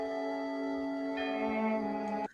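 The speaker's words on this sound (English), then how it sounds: "Wait, the bells ringing." Church bells ring on a Sunday morning, sustained rich tones pealing steadily and loudly for a couple of seconds before stopping abruptly, no voices present.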